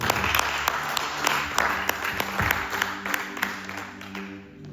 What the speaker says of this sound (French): acclamons très fort d'abord pour ça